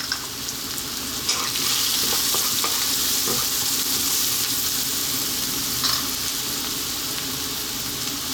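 Cumin, turmeric, coriander and garam masala powders fry in hot oil in a pan, a steady close sizzle with occasional stirring scrapes throughout.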